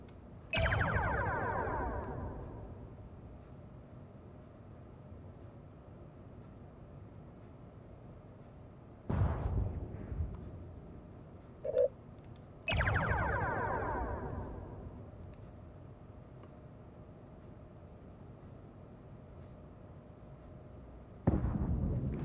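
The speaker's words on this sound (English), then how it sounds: "Target the nearby ship and fire torpedoes at it." Torpedoes fired at a nearby ship in Star Trek: Bridge Crew, three loud booming launches with decaying rumbling tails, spaced several seconds apart, plus a small blip between and a fourth burst starting at the very end.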